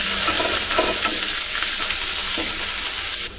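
Onions for a village-style egg besara fry in hot oil with a steady, close sizzle, broken by scraping stirs of a spoon through the pan.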